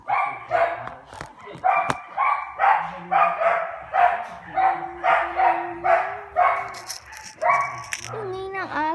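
A dog barks repeatedly in a steady rhythm of sharp, loud yaps close by, with a brief whine near the end.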